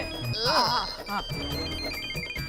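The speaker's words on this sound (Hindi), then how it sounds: "वीरा जल्दी फोन लो" A telephone rings with a bright electronic tone over busy background noise and music, about two and a half seconds long.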